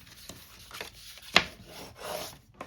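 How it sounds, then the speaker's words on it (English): Paper being creased and folded for a card-making kit, soft rubbing and scraping strokes with one sharp crisp swipe in the middle, close and quiet with no talking. "I'm going to fold up here"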